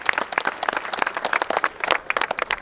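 Audience applause at a Finnish drift event at Himos, a dense and lively patter of many hands clapping, moderately close, lasting the whole moment with no talking over it.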